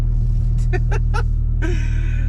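A turbocharged Honda Integra engine, warmed up, rumbles steadily at close range, a deep constant drone broken by a few short, sharp bursts.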